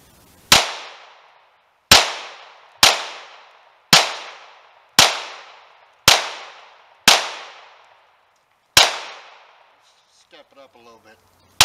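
A Glock 17 Gen 4 pistol firing 124 grain full metal jacket rounds, eight loud, close, sharp shots with decaying echoes at uneven intervals of roughly a second, followed by brief faint speech.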